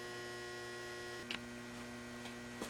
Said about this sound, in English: I think you might be able to hear that transformer running